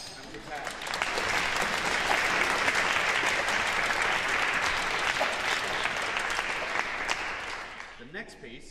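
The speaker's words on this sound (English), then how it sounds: "clap at the conductor and prepare" Orchestra concert audience claps for the conductor after a piece, a full, sustained round of applause that swells quickly, holds steady, then fades out near the end with some talk.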